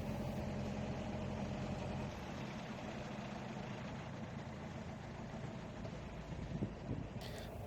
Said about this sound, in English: An extensive engine test was required,